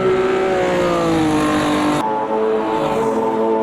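Mini race cars with small 1-litre engines scream past in a sim racing game, a loud sustained high-revving buzz with shifting pitch as they approach and pass.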